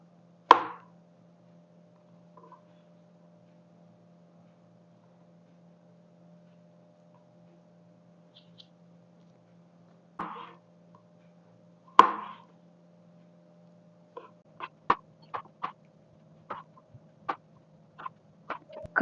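A knife slices through banana on a board for Kerala pazham pori fritters, giving a few sharp, separate cutting taps early, then a quicker run of light chops near the end over a faint steady hum.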